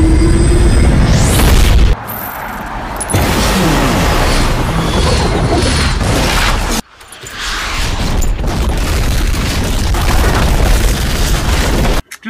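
Explosion special effect from the Action Movie FX iPhone app: a loud, deep boom with rumbling debris that cuts off abruptly, followed by a second sustained roaring blast, with no talking.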